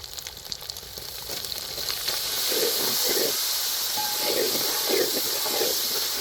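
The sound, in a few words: onions and tomatoes sautéing in pan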